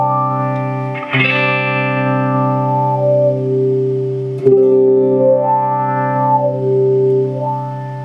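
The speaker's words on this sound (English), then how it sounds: "throw a bit of the wah in there, which I've modified to kind of my specs" Electric guitar played through a custom-modified wah pedal with a long treadle sweep, sustained distorted chords ringing while the wah slowly sweeps up and down, a fresh strum near the start and another midway, no voices.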